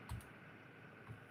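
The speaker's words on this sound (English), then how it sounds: "try hitting the right arrow key and see if that moves it" Right arrow key pressed on a computer keyboard, two faint separate clicks about a second apart against quiet background.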